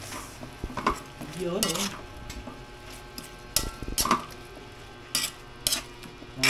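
Potatoes dropped into a cooking pot at home, with utensils clattering and scraping against the pot in several close, sharp bursts while a person speaks briefly.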